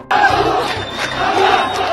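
A large crowd in Gaza chants anti-Hamas slogans at a protest. Massed voices shout in a loud, steady rhythmic roar.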